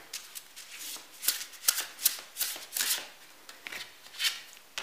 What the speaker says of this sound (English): So let's pick the four cards.